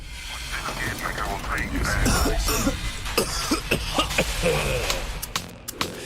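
Several sharp coughs break out in a health advertisement, closely spaced and close up over a busy, noisy background.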